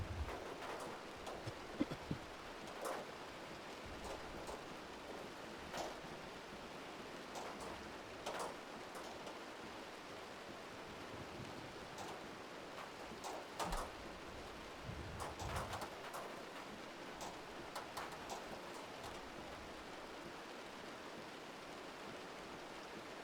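Storm rain and hail in the video game Outbrk, a faint continuous hiss of rainfall broken by scattered sharper ticks and patters of hitting stones.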